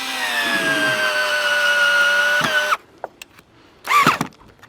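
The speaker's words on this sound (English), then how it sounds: "And I'm using a small torque on this" Cordless drill set to low torque drives a screw into a solar panel mount, a loud steady whine lasting nearly three seconds, followed by brief clicks and a short second burst of drilling.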